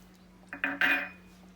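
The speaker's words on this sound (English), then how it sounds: "And mix it nicely" A spoon works through aloo matar paneer curry in a pan, giving three quick metallic clinks and scrapes close by that build and then fade, with no voices.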